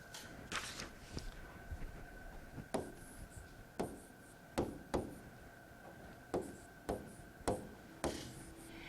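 Chalk or marker writing out a math problem on a lecture-hall board, sharp taps and short strokes in an irregular rhythm, faint against a quiet room with a steady hum.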